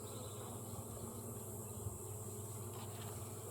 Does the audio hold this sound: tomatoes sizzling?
no